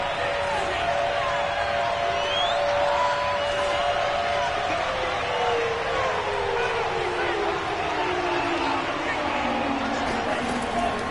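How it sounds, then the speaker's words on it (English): A football stadium crowd at a Bears versus Vikings game roars steadily for the defense, a broad, continuous wash of cheering and noise with a commentator talking over it. "this crowd urging on their defense. They're up and making noise."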